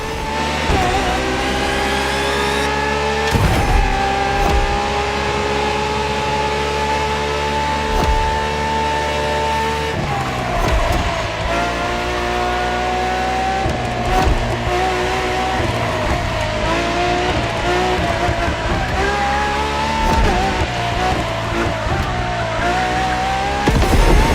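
A LaFerrari hybrid supercar in the racing game The Crew Motorfest revs loudly and continuously. The engine pitch climbs and drops through several shifts, with tire squeal and skidding across a long, dense stretch of engine noise.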